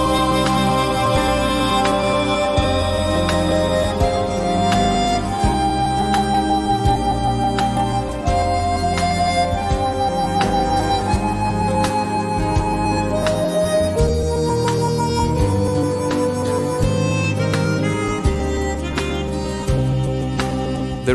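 A harmonica solo plays over a bridge in a song, the reedy melody running continuously through a full, loud band arrangement.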